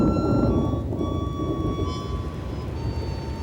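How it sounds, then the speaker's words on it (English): Rain beginning to fall in the Australian outback, with a steady low rumble of thunder and a broad wash of rainfall running continuously throughout, no voices. "it starts raining."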